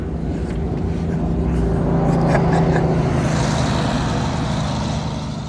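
A small homebuilt Firefly car pulls away in first gear, its engine droning steadily with a low rumble that swells slightly mid-way, loud and close throughout.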